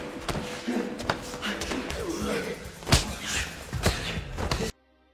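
Fist fight in a film, with a rapid string of hard punches, slaps and body slams hitting in an uneven rhythm over dramatic background sound, before it cuts off abruptly.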